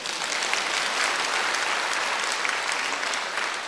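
Steady, dense audience applause from a crowd at a pastor's lecture, loud and continuous throughout with no speech over it.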